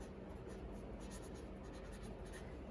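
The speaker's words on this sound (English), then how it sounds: "write thermosphere on the top" Marker or pen writing steadily on paper, a continuous close scratching with a soft rhythmic texture, heard alone, with the word thermosphere being lettered across the top of a layer of an atmosphere diagram.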